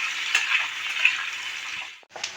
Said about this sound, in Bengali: আমার আলু আর কচুটা একটু ভাজা হয়ে গেছে